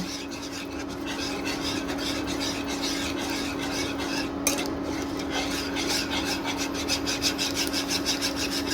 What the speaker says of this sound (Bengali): সুজির লাম্পগুলো যাতে না থাকে সেই জন্য একটা হুইস্কার দিয়ে ভালো করে নেড়ে নিচ্ছি।